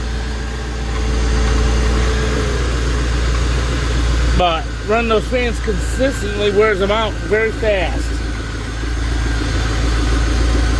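Car engine idling with cooling fans running, a steady loud low hum under someone talking for much of the time.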